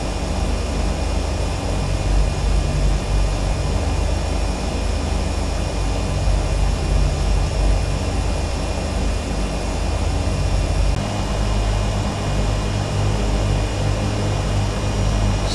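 Turboprop Beechcraft Duke taxiing in the Prepar3D flight simulator game, a steady, loud engine drone with a constant whine held throughout, shifting slightly in tone near the end, with no talk over it.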